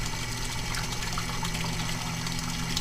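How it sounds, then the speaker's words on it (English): Water pump driving a pipe flow: steady, dense rushing and churning of water with a low mechanical hum, constant and close throughout, no voices. "the water pump driving this pipe flow"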